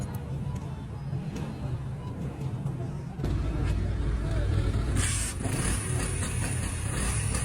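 A motorcycle engine runs steadily up close after a valve adjustment, its exhaust note a continuous rumble that grows louder partway through, with faint voices in the background.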